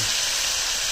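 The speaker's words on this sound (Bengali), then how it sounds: "তো প্রথমেই কড়াইতে দিয়ে দিলাম ঘি, এখন দিয়ে দেবো কপিগুলো।" Cauliflower frying in hot ghee in a wok gives a steady, dense, close sizzle that holds evenly for the whole second.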